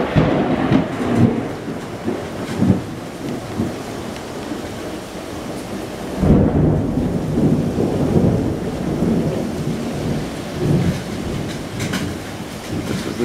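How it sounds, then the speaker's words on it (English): Steady rain falls outside a house, joined by low rolling thunder that swells twice, with a heavier rumble in the middle, heard from indoors with no talking. "It's raining."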